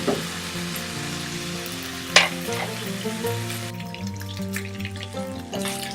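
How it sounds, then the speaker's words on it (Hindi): Onions frying in a pan with ginger garlic paste while being stirred for an aloo shimla mirch dish, a steady close sizzle with scraping stir strokes and one sharp clatter, with no talking. "प्याज, इतना आपने इसको फ्राई करना।"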